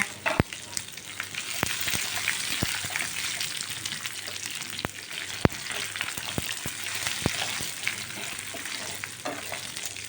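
Chillies sizzle steadily in a hot pan while a sweet potato chutney is being made, with dense frying crackle throughout and sharp clicks of stirring. No voices.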